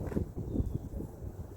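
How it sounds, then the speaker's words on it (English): Steady low wind buffeting a microphone, rumbling and gusty throughout, with no talking. "it's windy"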